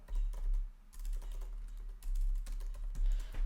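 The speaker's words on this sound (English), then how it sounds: "if you type in FBA calculator" Steady typing on a computer keyboard, a quiet run of soft clicking keystrokes with brief pauses and no voices.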